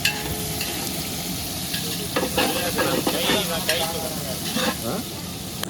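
Onions frying in a pan for biryani, a loud continuous sizzle with repeated stirring and scraping of a ladle, close up, with a brief hint of voice in the background.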